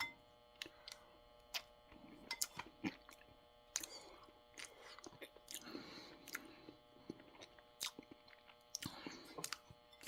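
Close, quiet chewing of vegetable barley stew from a humanitarian daily ration, soft wet mouth sounds and scattered clicks over about ten seconds, with a faint steady hum in the background.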